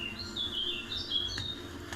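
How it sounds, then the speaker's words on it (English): Faint birds chirp and tweet in short high calls over a low, steady background murmur, heard from a distance with no voices. "That sounds like birds chirping to me."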